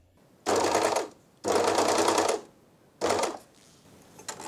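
A Janome 2000D serger overlocker set to stitch length 5 runs in three quick bursts, each a loud rapid whirring chatter separated by short pauses.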